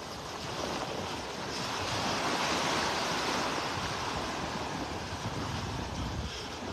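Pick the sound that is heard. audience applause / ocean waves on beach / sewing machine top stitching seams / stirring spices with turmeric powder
ocean waves on beach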